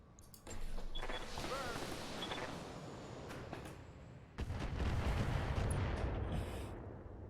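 Battlemechs in the Battletech game unleash split weapons fire on an enemy Centurion: two heavy volleys of booming, rumbling blasts with rattling impacts, the second starting abruptly and sustaining loud, dense roar to the end.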